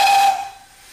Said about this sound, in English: The whistle on a steam train makes a fantastic sound.